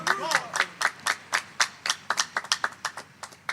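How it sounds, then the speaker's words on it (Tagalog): A church congregation claps at a worship service in a steady rhythm of sharp, close hand claps, with a voice heard briefly at the start. "Isang malakas na palakpak uli sa ating dakilang Diyos sa buhay."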